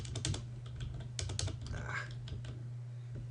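Quick, soft clicks tap across a computer keyboard as someone types a command, with the keystrokes arriving in short irregular runs over a low background hum.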